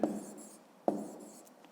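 A pen writes numbers on paper for a column addition sum, giving two soft scratchy strokes, each starting with a sharp tap and then fading away, close and quiet with no voice.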